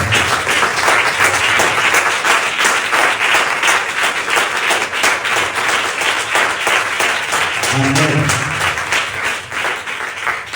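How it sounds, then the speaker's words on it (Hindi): Loud, sustained applause from a church congregation during a Hindi prophetic sermon, dense clapping that continues for about ten seconds, with a brief voice rising partway through. "हम जोरदार ताली बजाएं"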